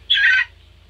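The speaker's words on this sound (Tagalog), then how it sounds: "mukhang malaking manok to" A big brown-red rooster lets out one short, loud call close by, lasting under half a second before it cuts off into quiet.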